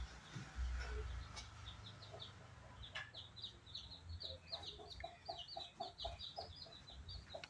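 Country chickens, a native Tamil breed flock with newly hatched chicks, cluck in repeated short calls throughout, with a low rumble early on and chirping peeps layered above the clucks.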